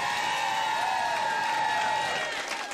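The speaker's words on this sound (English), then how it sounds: "let's give both of these fighters a big round of applause" A dense, steady wash of crowd applause and cheering for both fighters at a live slap fight championship event, loud and continuous, tapering slightly near the end.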